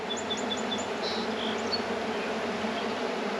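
Honey bees from a recently hived swarm buzz in a steady, close, continuous drone, with no voices.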